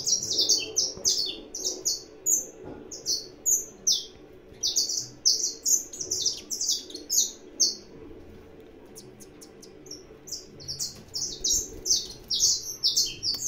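A saffron finch in an aviary sings bright, rapid chirping phrases in repeated bursts over several seconds, fairly close and clear above a soft low background hum.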